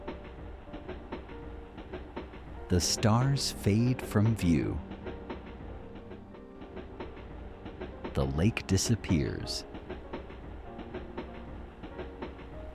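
A train's steady clickety-clack rolls beneath a calm narrating voice in a gentle night story, the rail rhythm low and continuous behind soft speech.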